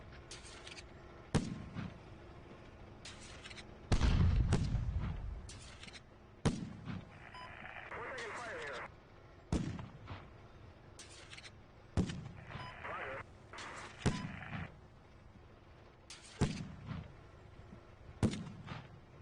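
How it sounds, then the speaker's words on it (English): Tank cannon fire in the Steel Beasts Pro video game on the Central Golan map, a series of sharp booming shots spaced a few seconds apart, some heavy and rumbling, with a player talking between them. "Fucking tank shooting at me."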